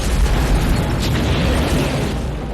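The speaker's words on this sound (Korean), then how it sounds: "결국 장치를 해제하지 못한 채 그의 눈앞에서 차가 폭발합니다" Car exploding in a film scene, a loud, dense boom with a roaring rumble that fills the whole clip and slowly fades, no voices.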